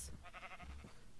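A single sheep bleat from the video game Minecraft, short and wavering, close and fairly loud against a faint background, with no other sounds around it.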